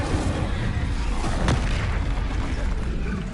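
Incendio fire spell cast in the video game Hogwarts Legacy: a dense, roaring burst with one sharp crack in the middle, loud against a constant rumbling background.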